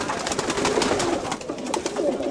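Many pigeons cooing and shuffling inside a crowded loft, a dense steady murmur of soft calls close by with no speech.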